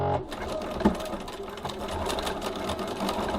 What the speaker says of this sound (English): So I'm just going to run some stitches across each end